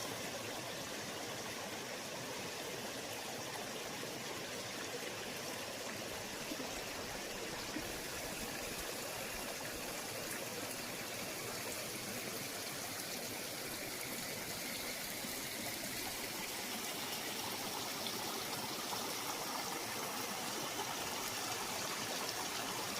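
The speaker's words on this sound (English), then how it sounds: "I just love the sound of running water." A river's running water rushes steadily and close, a dense, unbroken broadband wash with no voices and no letup across the whole stretch.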